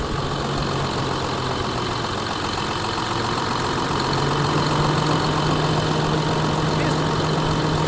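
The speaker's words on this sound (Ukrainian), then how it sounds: "Моторчик працює." A tractor engine runs steadily at idle after antifreeze has been added, a continuous mid-low drone with a faint tonal hum and no voices over it.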